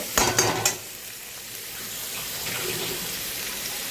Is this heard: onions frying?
yes